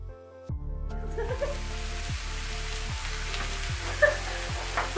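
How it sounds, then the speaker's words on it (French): Mushrooms and shallots sauté in pork juices with butter in a pan, giving a steady, close sizzle with soft crackles and a few stirring scrapes, alone. "je récupère le jus pour faire revenir le mélange champignons et échalotes"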